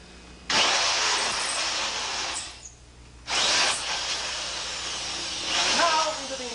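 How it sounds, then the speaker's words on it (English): Power drill with a cobalt-tipped bit, run at low speed with cutting oil, bores through the steel wall of a one-hour fire-resistant safe: two long, loud grinding whines separated by a pause, then a shorter final burst. "All I'm doing is picking a spot back in the safe where I know there's no hardened anti-drill plate, and drilling through to the interior."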